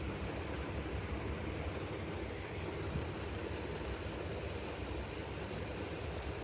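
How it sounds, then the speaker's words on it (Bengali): Chopped onion and garlic fry in hot oil with a steady, even sizzle that holds unbroken and close from start to finish. "তো এই তেলে আমি পেঁয়াজ কুচি আর রসুন কুচি দিয়ে দিলাম।"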